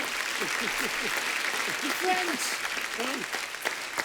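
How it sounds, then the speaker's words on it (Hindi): Studio audience applause on a TV comedy talk show, a steady dense wash of clapping filling the whole stretch, with voices and cheers rising through it. "जोरदार तालियां मुक्ति के लिए"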